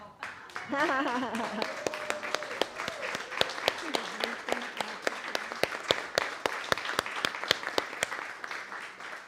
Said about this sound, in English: let us applaud one another.